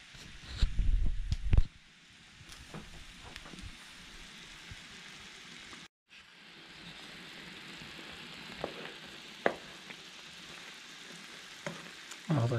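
Steady sizzling of eggs frying in a pan on a wood-fired stove, a soft crackling hiss that runs on and on, with a few clanks and stirring sounds.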